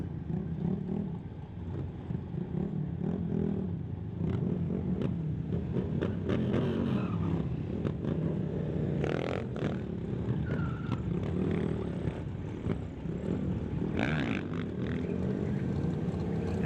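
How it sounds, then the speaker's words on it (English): Stunt motorcycles at an outdoor event doing wheelies, burnouts and donuts, with steady engine roar and revving swells running throughout under a noisy crowd-filled ambience. "Wheelies and burnouts and donuts on bikes."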